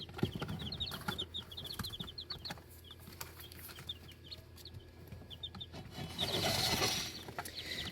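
Two-day-old chicks peep in a steady run of short, high chirps, close by, with a brief burst of louder flapping or rustling near the end.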